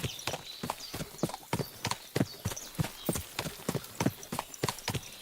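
A horse's hooves clip-clop steadily along ground in the video game Kingdom Come Deliverance 2, a brisk, even rhythm of sharp thuds lasting several seconds, close and prominent with no talk over it.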